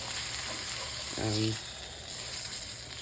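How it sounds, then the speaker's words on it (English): Steady frying sizzle of steak in butter with a bright hiss throughout, close by, with a brief spoken word partway through. "you'll know whenever it's ready to flip when you start hearing a lot of sizzling"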